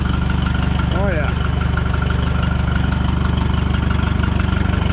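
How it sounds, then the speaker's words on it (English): A tractor engine idles nearby with a steady, throbbing mechanical pulse, and a voice speaks briefly over it. "This is a sweetheart of a tractor"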